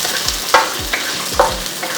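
Whole spices (garam masala, cardamom, star anise, cloves and cumin) sautéing in a pan for a paste, with a soft steady sizzle broken by a few distinct stirring scrapes and knocks, close and without talk.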